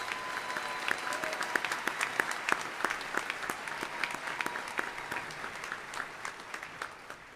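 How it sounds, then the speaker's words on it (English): Applause at a Naval Postgraduate School graduation ceremony for doctoral graduates, a sustained, moderately distant round of clapping in a large hall with sharp individual claps standing out. "Please join me in a round of applause for both of our doctoral graduates"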